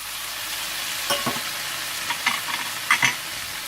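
Spices are stirred into samosa filling in a pan, a soft background sizzle broken by several clinking scrapes of a spoon against the pan, close and without speech.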